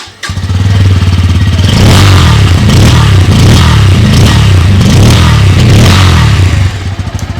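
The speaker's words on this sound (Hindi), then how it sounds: "सबसे पहले दोनों बाइक के इंजन और एग्जॉस्ट के साउंड को आपको चेकआउट करा देता हूँ" A Bajaj Pulsar N160 motorcycle's engine and exhaust revving up close, loud repeated throttle blips over a steady throbbing idle, with no talking.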